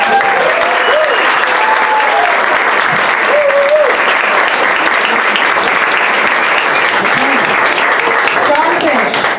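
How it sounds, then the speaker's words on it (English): An audience at a first grade school performance morning applauds the children's teachers, a steady, dense wash of clapping that stays loud and unbroken throughout, with some voices and cheers mixed in. "Can we give their teachers a round of applause?"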